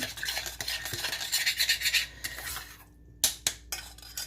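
A spoon stirring a pinch of salt into a cherry filling in a pot or bowl, with a steady run of soft scraping and clinking followed by a few sharper taps against the rim.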